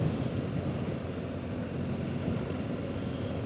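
Wind in open, dusty terrain in Tajikistan blows steadily across the microphone, a dense broadband rushing roar with slight gusting swells and no voices.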